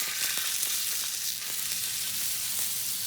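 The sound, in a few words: honey glazed salmon frying in a pan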